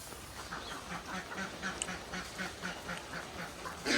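Two domestic ducks quacking in a steady run of repeated, evenly spaced calls at moderate distance on a rainy day, over a soft background hiss with no talk.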